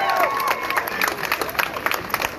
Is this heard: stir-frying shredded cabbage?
no